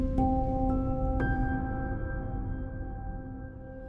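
Instruments made of ice are struck at the world's most northerly ice concert in the Arctic, giving a few bell-like tones that ring out and fade slowly over a low hum, with no voices.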